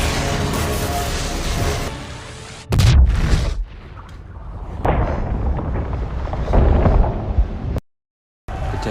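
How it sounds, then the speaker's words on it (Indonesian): High explosives blow up a city gate amid a zombie outbreak, with one sudden loud boom and a low rumble afterward, set within layered dramatic noise and ending in a brief cut to silence. "ia pun langsung membawa bahan peledak berkekuatan tinggi menuju ke depan gerbang, lalu ia meledakkan gerbang tersebut"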